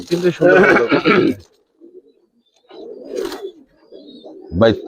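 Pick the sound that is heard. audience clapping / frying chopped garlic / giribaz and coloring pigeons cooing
giribaz and coloring pigeons cooing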